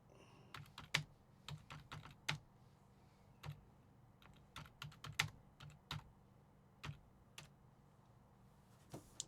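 A reply being typed on a computer keyboard. Sparse, irregular key taps and short clusters sound quiet and close in an otherwise hushed room.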